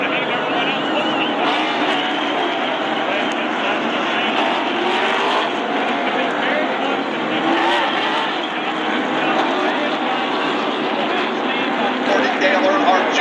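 NASCAR race cars at a Talladega race in 2015, a dense continuous roar of engines from a packed field, steady and loud throughout with no break.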